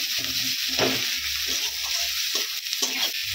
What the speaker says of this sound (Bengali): একটু ভালোভাবে কষিয়ে নিব মশলাটা